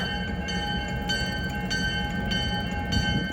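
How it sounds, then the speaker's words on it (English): Steady rail yard rumble with a high, sustained metallic squeal and periodic clanks as train cars roll slowly over switched track. "See, they're switching the tracks right there."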